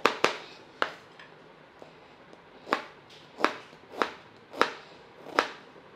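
Sharp, crisp chopping strikes of a knife cutting fruit for pineapple mango ginger juice on a board, about ten irregular cuts with quiet pauses between, close and moderately loud.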